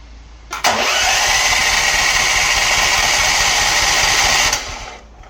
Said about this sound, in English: it turns over, but it doesn't spring into life